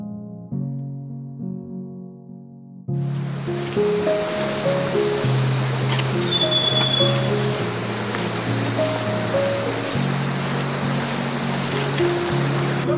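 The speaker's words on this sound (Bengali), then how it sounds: "এখান থেকে ঝর্ণার আওয়াজটা বেশ জোরে পাওয়া যাচ্ছে" A waterfall on a forest trail near Kolakham roars in a steady broadband rush that begins abruptly and continues unbroken, with a melodic tune of held tones playing over it.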